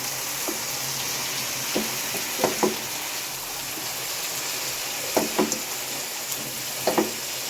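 Chicken curry with tomato fries in a pan, a soft steady sizzle under occasional clusters of spatula scrapes and taps, close but fairly quiet, with no talking.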